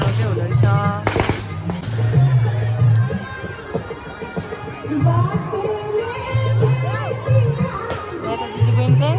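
At an early-morning Chhath Puja gathering in Nepal, firecrackers burst in sharp cracks and pops. They sound over a busy crowd, with people talking and chattering throughout.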